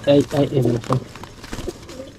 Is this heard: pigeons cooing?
yes